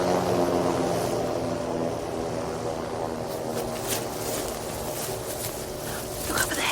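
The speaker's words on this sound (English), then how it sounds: "helicopter. It's landing on the front lawns of the embassy." A landing helicopter's low, droning rotor engine hums steadily nearby in a Tintin cartoon, a throbbing mechanical roar that eases slightly as it settles.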